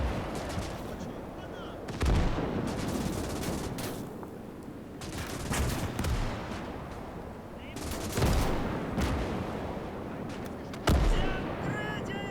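Heavy German 88 gun fire in the World War II strategy game Gates of Hell, set in a Soviet campaign battle: loud booming shots land around 2, 8 and 11 seconds, with other gunfire and battle noise filling the gaps between them.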